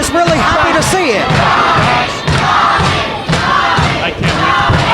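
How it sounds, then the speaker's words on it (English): A large wrestling crowd roars and cheers loudly and continuously, with shouts rising and surging in waves, close and dense with no clear speech over it. "this crowd is really happy to see it"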